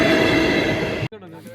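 A train passes near a spot where people wait for it, a loud rumbling rush that cuts off abruptly, leaving quieter background sounds and a brief voice.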